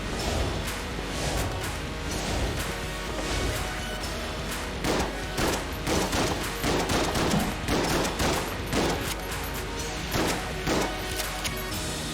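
Rapid rifle fire from a Winchester in the video game Enter the Gungeon, a dense run of sharp repeated shots and impacts over game sounds, steady and loud throughout.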